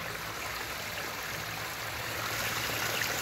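Pumped water pours into a pond lined with bentonite, a steady, soft rushing and trickling flow with no voices.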